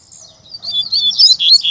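Male rusty-collared seedeater (coleiro pardo) singing close by, a quick run of bright, warbling chirps and twitters that grows louder over under two seconds, with no talk.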